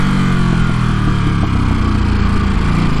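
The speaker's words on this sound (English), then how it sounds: "the pops and burps of this exhaust is really the reason why I love this bike so much" A motorcycle engine and exhaust hold a loud, steady, close droning roar with no breaks.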